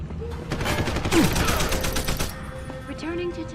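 Gunfire in the stealth-action game Deus Ex: Human Revolution, a dense burst of rapid shots over about two seconds with a brief spoken line mixed in, then fading into quieter game ambience.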